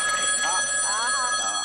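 A telephone rings in short electronic trills, close and fairly steady across the moment, with faint background voices around it.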